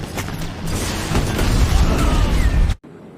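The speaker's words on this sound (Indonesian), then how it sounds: "tembakan RPG kedua kalinya mengenai badan kendaraan lapis baja mereka" A film RPG round strikes an armored vehicle, giving a loud booming explosion with a sustained rumbling crash that cuts off abruptly into near silence.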